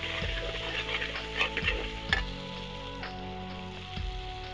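Masala is stirred in a pan for mutton biryani. A spoon scrapes and taps against the metal several times over a soft sizzle, with no talking.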